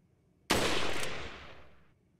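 A single loud gunshot fires in the Resident Evil 4 video game, a sharp close crack that decays over about a second and a half in an echoing tail, with no speech.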